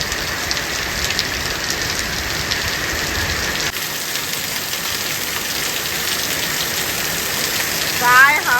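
Heavy rain pours steadily in a dense, continuous hiss, loud and close throughout, with a faint brief sound near the end.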